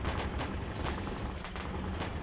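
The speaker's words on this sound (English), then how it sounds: "Things are popping off here. Sounds like fireworks" Rapid, irregular popping bursts like fireworks in the off-road driving game Spintires: Mudrunner, a dense crackling barrage at moderate loudness with no talking.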